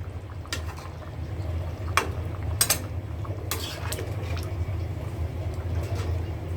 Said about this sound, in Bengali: এখন এটা একটু সামান্য নেড়ে চেড়ে